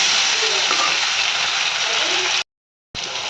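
Ridge gourd and potato sizzling and frying in a pan while being stirred, a loud continuous crackle with scraping stirs, cutting out briefly near the end before resuming.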